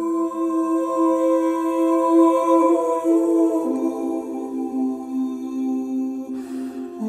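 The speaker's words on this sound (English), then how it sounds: "So I did just find this simple vocal phrase from Splice and it sounds like this." A simple vocal phrase sample from Splice, prepared for a guitar-based trap beat, plays as sustained melodic singing with steady tones that shift partway through, ending with a brief noisy burst near the close.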